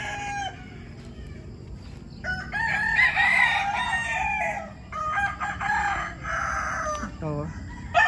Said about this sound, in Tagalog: So manok namin.